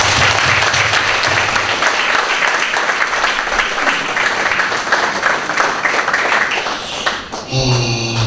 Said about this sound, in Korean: 여러분들 크게 한번 박수 한번 드립니다.